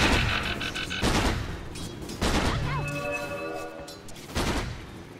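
Flak Cannon volleys in a Dota 2 match come as bursts of rapid booming gunfire, each burst loud and crackling with a ringing tonal effect between them, and a caster's voice runs underneath.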